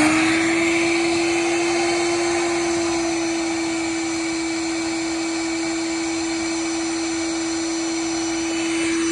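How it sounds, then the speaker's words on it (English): An air blower forcing air through the suction lines of an in-ground gunite pool during winterizing, a loud, steady motor whine with a strong constant hum and rushing air, unbroken throughout. "the air is gonna come in from the blower, get diverted into the suction lines here"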